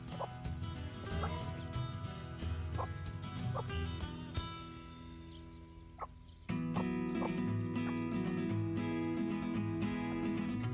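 Broody hens cluck softly around their chicks, with repeated short clucks and peeps over a steady outdoor background, fairly close and at moderate loudness, with no speech.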